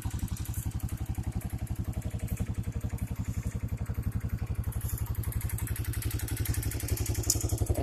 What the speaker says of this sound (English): It is a really nice four-wheeler